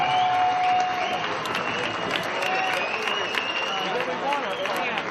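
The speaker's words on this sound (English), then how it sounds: "A big round of applause for a gallant Gerpaul Valero from the Philippines." Crowd at a boxing match applauds a beaten fighter, a steady wash of clapping and cheering with scattered sharp claps and a ring announcer's voice over the noise.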